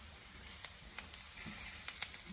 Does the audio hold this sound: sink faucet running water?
no